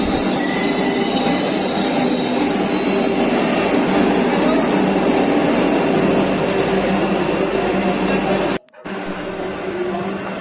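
Vande Bharat Express pulling into platform 1 at Patna Junction, a loud continuous rumble of rolling wagons with squealing wheels, close by, with a brief dropout near the end.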